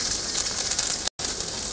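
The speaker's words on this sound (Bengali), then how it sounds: "কড়াইয়ে সরিষার তেল দিয়ে দিচ্ছি। পেঁয়াজ কুচি দিয়ে দেব, পেঁয়াজ কুচি মরিচ কুচি দিয়ে দিচ্ছি" Chopped onion and green chili frying in mustard oil in a kadai, a steady close sizzling hiss that runs throughout with one very brief dropout near the end.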